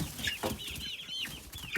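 Meat chickens cluck and chatter in short, overlapping calls, with a few higher squawks, steady and fairly close throughout.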